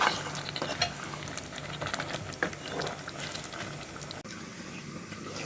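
Chicken and chickpeas cooking together in a pan, a continuous close sizzle with stirring and scraping throughout, a sharp knock near the end.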